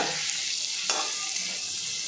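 Potatoes fried in a pan with chopped onion, turmeric and oil give off a steady close sizzle with one brief scrape of a spatula, and no one speaks.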